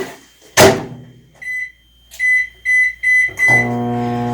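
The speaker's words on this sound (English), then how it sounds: "I'm going to defrost it in the microwave for about 5 minutes." A microwave oven defrosting a bag of shredded hash browns: a door clunk, then a run of loud, evenly spaced electronic beeps before the steady hum of the oven running.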